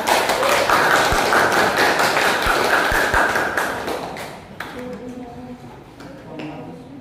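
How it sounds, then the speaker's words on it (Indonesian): Classmates in an Indonesian classroom applaud a student, a dense patter of close hand claps that fades out partway, followed by quieter voices talking. "beri tepuk tangan dulu buat Intan ya"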